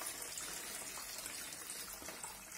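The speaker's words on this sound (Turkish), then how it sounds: "Öncelikle derin bir kabın içerisine suyumu boşaltıyorum." Faint, steady trickling of water being poured into a deep bowl in a kitchen, a soft continuous stream lasting a couple of seconds.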